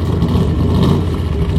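A big, high-torque engine in an American-style car with gull-wing doors rumbles loudly and steadily at close range with a deep, throaty idle, heard alone.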